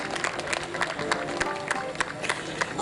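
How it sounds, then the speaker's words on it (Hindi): Audience clapping in a hall at a devotional singing event, a steady, dense patter of many hands sustained throughout, moderately loud with faint background murmur. "तालियों से स्वागत करें सभी का"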